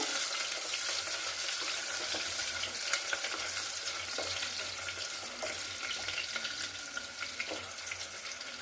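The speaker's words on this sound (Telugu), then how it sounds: "ఇప్పుడు ఉల్లిపాయలు వేస్తున్నానండి, తరుక్కున్న ఉల్లిగడ్డలు" Chopped onions frying in a pan with ghee for masala carrot pulao, a steady, dense sizzle with faint crackles and occasional stirring clicks, close and continuous with no voices.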